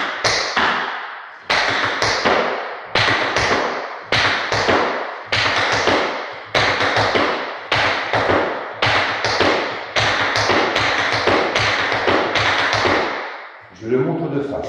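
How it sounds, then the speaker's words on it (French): Shoes beat out a traditional maxiforme tap dance step in a steady repeating pattern of crisp, sharp taps and heel thuds, recorded close, with short pauses between the phrases. "je vais passer par le maxiforme, pas traditionnel de claquette, très sympathique, très visuel"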